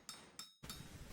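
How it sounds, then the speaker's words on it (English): Metal hammers strike copper plates in a coppersmiths' street of an Istanbul bazaar, three sharp ringing clanks with bright metallic overtones, spaced irregularly and decaying quickly, fairly faint with no voices. "Hundreds of hammers strike metal plates at the exact same time."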